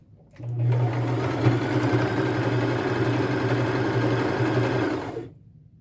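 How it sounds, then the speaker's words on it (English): A sewing machine running a regular stitch to attach fringe to a handmade boho crossbody purse, one continuous steady mechanical whir lasting about five seconds, close and loud, alone. "Now I have to go to my machine. And I'm just using a regular stitch here."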